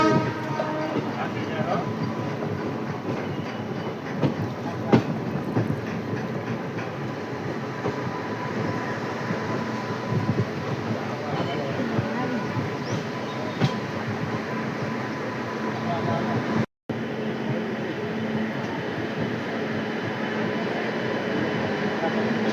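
Passenger trains between Veraval and Bhavnagar and between Porbandar and Rajkot rumble steadily at Bhaktinagar railway station, a continuous near roar of carriages with rail clatter, under ongoing talk.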